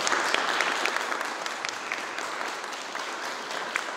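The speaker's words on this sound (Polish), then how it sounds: "To brawa dla niego" Audience applause for actor Jacek Wojnicki at an outdoor music festival, a continuous crackle of many hands clapping at moderate volume, with a few sharper claps standing out and no speech.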